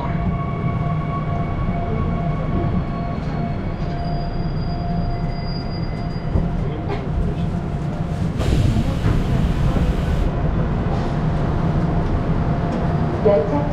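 Seoul subway Line 9 express train bound for Gimpo Airport running inside the carriage, a loud continuous rumble of wheels and motor with rising whine and a brief high hiss midway, steady throughout.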